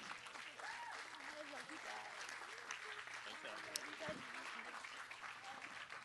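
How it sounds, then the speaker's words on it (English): Wedding reception guests applauding after a toast, a steady spread of clapping from a room full of people, fairly quiet and distant, with some chatter underneath. "Nice round of applause for Emma and that beautiful toast."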